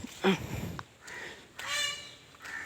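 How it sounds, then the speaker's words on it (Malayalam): A loud, harsh, honking peacock call rings out a couple of times, with a nasal, wailing quality, over faint outdoor background noise near a river. "ആ മയിലിൻ്റെ സൗണ്ട് ഉണ്ട്"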